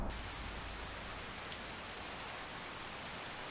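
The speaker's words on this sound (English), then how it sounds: "Of course it's raining." Steady rain falls in the video game Skyrim, a dense, even hiss of drops spread across the whole clip with no voices.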